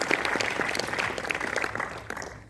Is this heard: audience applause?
yes